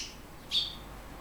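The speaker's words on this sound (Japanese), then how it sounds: "スズメの一家が" A family of sparrows feeding gives a single short, high chirp that stands out clearly over a quiet outdoor background hiss.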